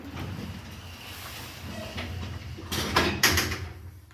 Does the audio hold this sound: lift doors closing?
yes